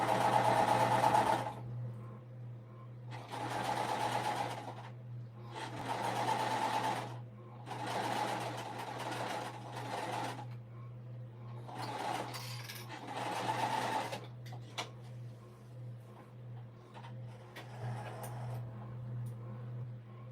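A home sewing machine stitches a peek-a-boo beauty bag in a string of steady, close bursts, each running a second or two with short pauses between, loud and alone over a low hum.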